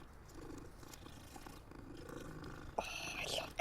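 A cat purrs in the Hogwarts Legacy video game, a steady low rumbling purr running throughout at close range, with a few brighter game sounds near the end.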